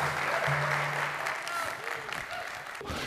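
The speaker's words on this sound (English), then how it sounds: "Please provide a warm, welcoming applause for Tom." Conference audience at a PyCon AU 2023 talk applauding, a steady wash of clapping from a crowd throughout, with a faint voice briefly under it.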